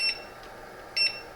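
Silvercrest SRHV 2000 fan heater with LED light beeping as its timer is set, two short high electronic beeps about a second apart over a low fan whir.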